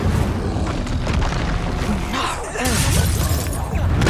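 Spell blasts in Hogwarts Legacy combat, with a Confringo explosive curse among them: dense, continuous booming and crackling impacts that stay loud throughout, with a sharper burst near the middle and voices mixed in.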